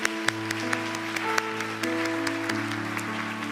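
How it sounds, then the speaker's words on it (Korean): A church youth congregation claps at a Christmas service. The applause is moderate and scattered, sounding beneath sustained keyboard-like tones, with a few sharper individual claps standing out. "이 땅에 오신 예수님께 우리 감사의 박수를 함께 드리도록 하겠습니다."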